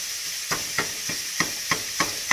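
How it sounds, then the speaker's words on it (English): Minced meat fries in a pan with a constant bright sizzle, broken by regular sharp taps of a utensil chopping and breaking up the meat, close and with no talk. "As it cooks, you'll be able to mince it up even more."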